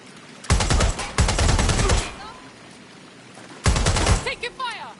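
Automatic gunfire in Watch Dogs Legion: three loud, close bursts of rapid shots separated by brief pauses, with chirping electronic effects trailing the last burst.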